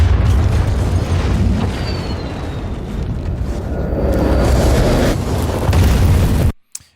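A loud, rumbling explosion with a deep boom that rolls on with debris and reverberant tail for several seconds, then cuts off abruptly.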